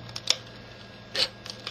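A pair of scissors trims excess material by hand, with a few short, close snips over quiet background hum.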